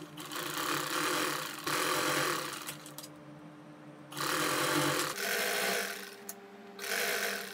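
Sewing machine stitching shuttle lace onto a fabric strip, running in several steady whirring bursts of one to two seconds separated by short pauses, close and clear with no voices.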